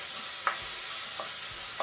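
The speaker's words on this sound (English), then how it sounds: "we're just going to saute this until the onions" Onions sauté in a pan for garlic soup, giving a soft, steady sizzle broken by a few light taps of stirring, with no talking.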